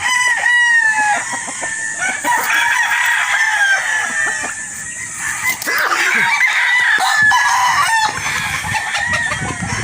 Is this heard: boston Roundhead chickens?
yes